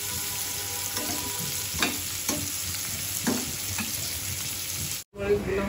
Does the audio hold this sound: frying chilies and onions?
yes